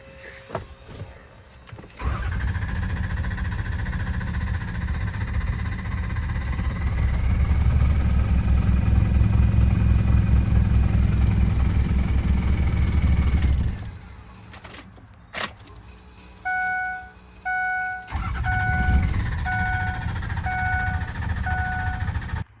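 A diesel engine with an ICP fault runs after a non-VGT turbo cleaning, rising to a loud sustained drone that bogs down and cuts out, followed by some chiming warning tones near the end.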